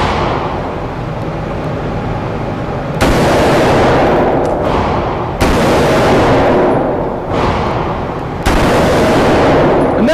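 Rapid sustained gunfire as a shooter empties a full magazine, loud dense bursts of shots running almost continuously with brief gaps between strings.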